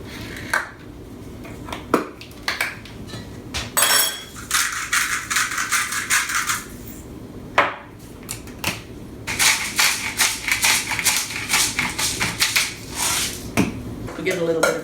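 Cajun popcorn with paprika, salt and pepper is tossed in a bowl, making dry rustling and scattered clinks and crackles in rapid bursts close by, with a voice speaking now and then over it.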